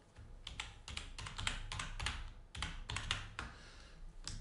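Keys on a computer keyboard are typed in quick, uneven bursts of sharp close clicks, with short pauses between groups and no talk.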